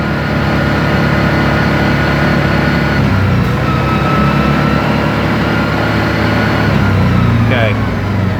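A Yamaha Wolverine 708 UTV engine runs steadily at about 4000 RPM, a loud continuous drone with no pauses. A person talks over it.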